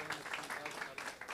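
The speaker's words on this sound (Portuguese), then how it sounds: "Uma salva de palmas." A church congregation applauds, a faint, steady wash of many hands clapping in the distance, low in level and continuous throughout the short moment.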